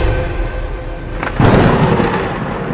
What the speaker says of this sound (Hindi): बाहर गरजते बादल और बिजली की जोरदार आवाज